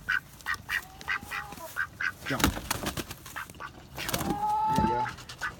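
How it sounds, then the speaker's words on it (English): Young backyard ducks at a tub give repeated loud, nasal quacks in a rough, uneven rhythm, close by. A person speaks briefly between the calls. "Oh, ducks. Come on, big duck."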